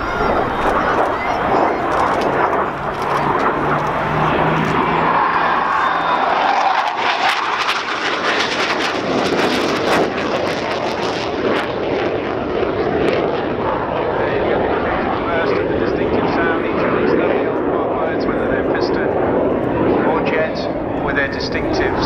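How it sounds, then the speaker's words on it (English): A Hawker Hunter jet roars past at the RNAS Yeovilton air show, a loud, sustained engine rush that swells, sweeps through a pass and keeps rumbling, with a commentator's voice partly audible beneath the noise. "Distinctive sounds and notes of the Hunter coming off."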